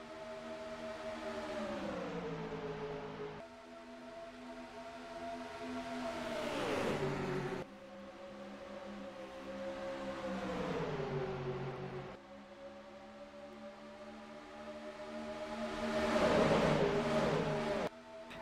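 Racing cars in a Disney Cars video game race drone past in repeated waves, engine tones rising and falling with each lap, revving and shifting pitch, steady and fairly loud with no talk over them.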